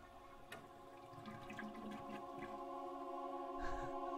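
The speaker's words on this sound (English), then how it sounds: "And then you just heard her wash her hands." In the PC game Phantasmagoria, a character washes her hands at a bathroom tap: steady running water over a faint hum, with small splashes and a louder splash near the end, no one speaking.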